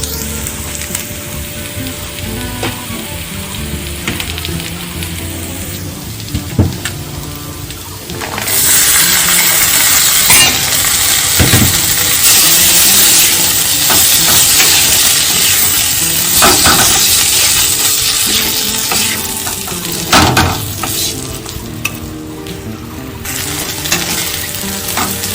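Boiled peas tipped into frying spice masala in an oil-filled pan, a steady loud sizzle with scraping stirs, quieter at first then jumping to a strong hiss that runs on with occasional clatters.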